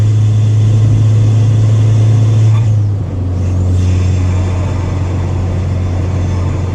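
A Ford Fiesta ST with an aftermarket intake drones steadily at cruising speed around 70 mph, a low hum that briefly dips, then settles into a slightly higher, stronger tone near 3,000 rpm.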